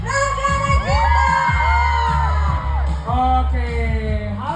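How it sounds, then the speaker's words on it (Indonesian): A live audience at an Indonesian show for Rangga & Cinta cheers, whoops and shouts loudly, a dense crowd roar with excited yells rising and falling over music throughout. "Sekali lagi dong, bang, kasih tepuk tangan untuk Rangga Cinta."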